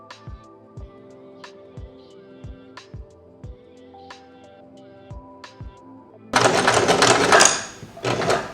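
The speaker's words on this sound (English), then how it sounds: "When you're sewing on elastic, you have to constantly pull it to the length of the fabric" A sewing machine stitches elastic onto a skirt, its needle producing a steady rapid series of close mechanical thumps for about six seconds before a louder, broadband burst of fabric and handling noise takes over.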